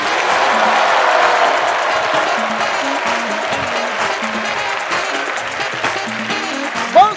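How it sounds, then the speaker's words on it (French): A comedy-club audience at a stand-up show gives loud, sustained applause mixed with some cheering, fading slightly toward the end as a few voices sound underneath. "Levez-vous et faites un tonnerre d'applaudissements pour Marcus."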